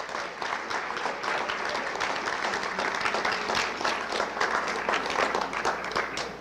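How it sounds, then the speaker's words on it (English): A crowd at a high school honors and awards ceremony applauds parents and guardians, sustained, dense clapping from a sizable audience heard from a moderate distance. "let's give a round of applause to the parents and guardians of tonight's recipients"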